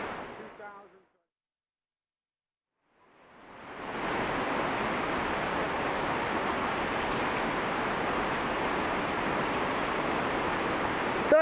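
La Fortuna waterfall rushing, a loud broadband roar of falling water that swells in after a brief silence and holds steady and close, with a voice speaking faintly at the start.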